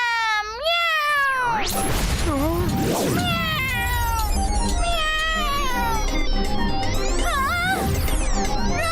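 A voice imitates a cat, drawn-out meows and wails with sliding pitch, loud and close, over music and a couple of sharp hits.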